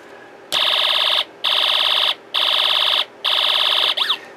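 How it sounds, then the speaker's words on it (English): A Snap Circuits alarm IC gives a loud, buzzy electronic laser machine-gun sound in four even bursts of under a second each, split by short gaps and ending in a quick falling chirp. "So we get our kind of laser machine gun sound, and it actually sounds louder coming out of this alarm IC"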